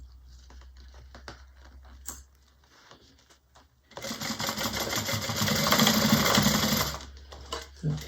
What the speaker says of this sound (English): I'm just going around, sewing down the sides